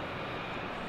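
An Embraer jet of City Flyer, inbound from Berlin, arrives at London City Airport with a steady, fairly loud engine roar and broad rushing noise, continuous across the brief moment with no voices.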